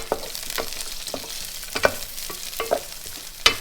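Peas and soaked soya chunks fry in a pan, giving a close sizzle broken by sharp, irregular taps and scrapes of a spoon stirring against the metal, with no voices.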